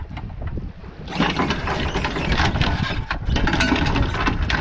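A river boat's engine runs steadily during a manoeuvre on a waterway in Portugal, a loud, continuous rumble mixed with wind buffeting the microphone. It grows stronger after the first second and holds, with no voices.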